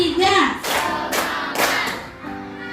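A classroom of children claps in unison during an ice-breaking counting game, with three broad clap bursts spaced about a second apart, set between a teacher's spoken counting cues.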